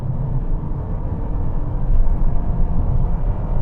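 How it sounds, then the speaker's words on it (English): A Toyota Camry engine drones at a steady, constant pitch as the CVT gearbox holds the revs under acceleration, a low continuous rumble filling the cabin. "you get that droning noise from the engine because of the way the CVT gearbox keeps the revs"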